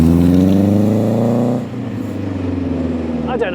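A Tipo 1 roadster built on a Mazda MX-5 revs hard with rising engine pitch, then eases off into a steady lower drone while driving, loud and close.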